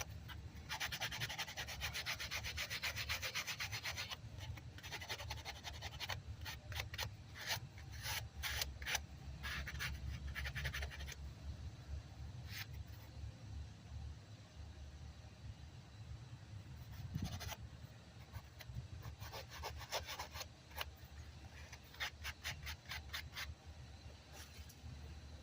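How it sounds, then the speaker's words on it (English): Sustained abrasive rubbing of a sand brick against a Ford Taurus car battery post, steady scraping strokes with brief pauses, close and fairly loud throughout with no talking. "I'm gonna hit this with the sandpaper,"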